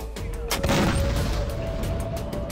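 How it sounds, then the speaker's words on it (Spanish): Explosions and gunfire in the war strategy game Syrian Warfare: a couple of sharp blasts followed by a booming rumble and a sustained tone, fairly loud over a low battlefield din. "escuchando explosiones, por aquí."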